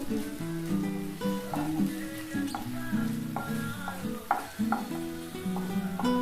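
Potatoes frying over low heat in a pan for egg and potato bhujia, a soft crackling sizzle with repeated scraping stirs of the spoon, set against gentle background music.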